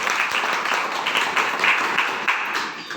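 Enthusiastic audience applause at a motivational success seminar on cashless India, steady dense clapping filling the whole stretch with a few louder bursts, close and fairly loud, no talk over it.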